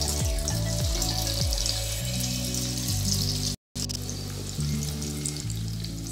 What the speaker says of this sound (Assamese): মধ্যমীয়া জুইত আমি মাংসখিনি